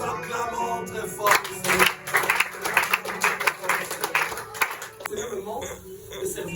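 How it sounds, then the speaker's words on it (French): A congregation at a church prayer and deliverance service claps and cheers loudly, with rapid, uneven handclaps bursting out amid shouting voices and continuing steadily throughout. "Nous acclamons très fort."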